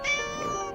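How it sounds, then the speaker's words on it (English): A cartoon cat gives one short, clear, tonal meow in an animated comedy, close and alone. "Oh, little kitty."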